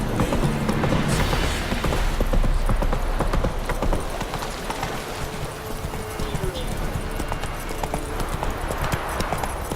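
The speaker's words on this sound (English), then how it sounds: "Run, Roach." Horse hooves clip-clop at a fast galloping rhythm in The Witcher 3, steady and fairly close, with game sounds and a voice briefly heard under it.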